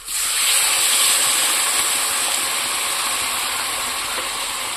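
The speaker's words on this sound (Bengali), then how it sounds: "এবার আমি জল ঢেলে দিচ্ছি।" Water poured into a hot pan of fish curry gives a loud, steady steam hiss that starts abruptly and holds for several seconds, tapering only slightly, with no talk over it.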